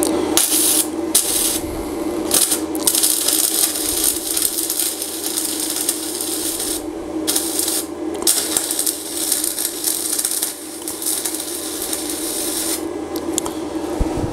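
Flux core welder laying a bead on thin 22 gauge steel, a steady loud crackling, sizzling buzz that runs almost without break, with a few brief pauses, close up.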